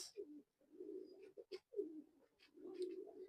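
Soft, low pigeon coos repeat in a near, steady murmur, broken by a few brief gaps and light rustling.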